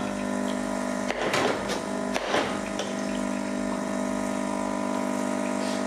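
Saeco Moltio espresso machine pumping water with a steady mechanical hum, two brief bursts of spraying water from the brew head near the start, close and fairly quiet.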